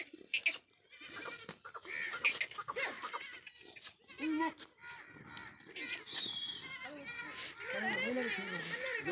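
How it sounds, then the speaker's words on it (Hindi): A herd of Beetal goats, breeder-quality stock with young kids, bleat repeatedly at close range, overlapping wavering cries mixed with someone talking throughout. "बकरियाँ अच्छी हैं इसकी।"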